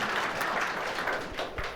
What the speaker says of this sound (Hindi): नहीं मुश्किल है तो ताली बजा दो।